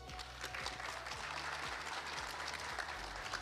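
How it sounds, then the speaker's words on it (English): A summit audience applauding in a large hall, steady sustained clapping from many hands, somewhat distant, continuing throughout without speech. "that deserves a round of applause"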